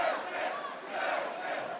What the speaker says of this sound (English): The crowd really getting behind Grzegor Jankowski again